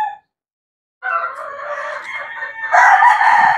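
Hens and roosters in a gamefowl breeding pen at a game farm, with a rooster's loud, close crow running for about two seconds after a brief cluck and a moment of silence.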